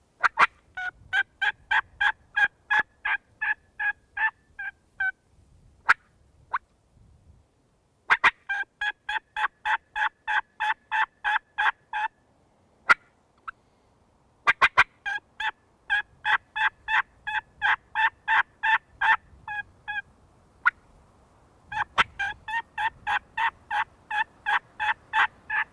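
A wild turkey gobbles in open Texas brush country, a rapid rattling gobble repeated in several long bursts separated by short pauses and a few sharp knocks, clear and fairly close, with no voices.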